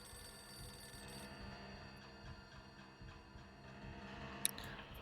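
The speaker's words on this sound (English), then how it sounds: "Oh, there's a phone ringing." A telephone rings in a Nancy Drew video game: a steady, moderately loud ringing runs through the scene alongside ambient game background noise, with no voices over it.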